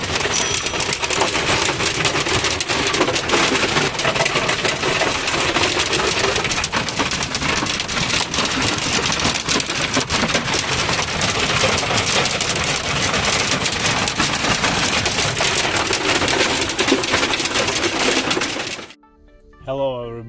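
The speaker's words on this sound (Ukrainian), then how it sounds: "Град валить такий, що капець, хоч би стекла не побив." Hail pelts a vehicle parked at a car park in Italy, a loud, dense and continuous rattling drum on the roof and glass that lasts throughout, then cuts off abruptly near the end, with no speech.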